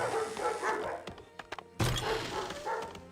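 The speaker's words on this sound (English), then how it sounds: "Oh my god, the dog kennel's making noise." Dogs barking at a kennel in a medieval city-builder game, a few short woofs and yips with thunks and a brief rattle, fairly close, under a faint game ambience.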